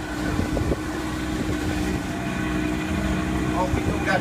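Engine of a glass-bottomed boat over a shallow reef, a steady droning hum running close and constant throughout, with wind noise on the microphone.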